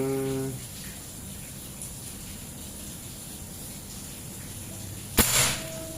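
A single sharp report from a folding custom PCP air rifle with a stainless 28 mm tube at 3000 psi, cracking once loud and close near the end after a steady quiet background.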